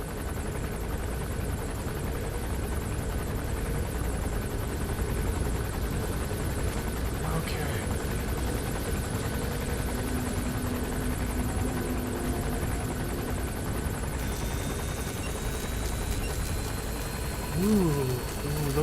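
A helicopter gunship in Metal Gear Solid V circles nearby with a steady rotor and engine drone that stays continuous throughout, joined by a few brief game sound effects near the end.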